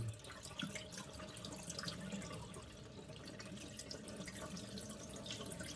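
Water runs into a bowl to rinse soaked sticky rice, a soft, continuous trickle and splash heard faintly throughout without speech.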